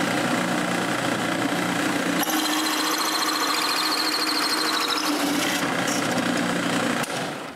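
Hole saw boring into a piece of scrap wood, a steady whining drill drone with a rougher cutting rasp in the middle stretch, close and continuous throughout without pause.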